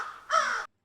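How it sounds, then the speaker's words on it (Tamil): A single harsh crow caw, close and clear, with a short lead-in before it. "காகம் கரையும்."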